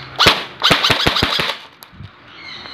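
LT01 Gen2 airsoft rifle in Lancer Tactical tan firing semi-auto, a quick run of about eight sharp close shots in brisk rhythm, then quiet with a faint mechanical sound.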